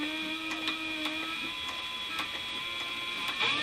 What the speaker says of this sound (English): and then I sewed right over the 3, right back in the right same hole.